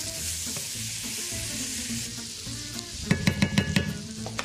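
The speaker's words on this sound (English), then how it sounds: "I'm going to add the sliced garlic." Sliced garlic hits a pan of tender cooked vegetables and fries with a steady close sizzle, followed near the end by a quick run of rhythmic stirring or scraping strokes.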